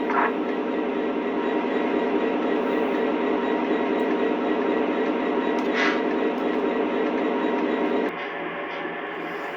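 A steady, loud hissing rumble from a Lionel Legacy diesel model locomotive's emergency brake sound runs for several seconds, then drops abruptly to a quieter level near the end.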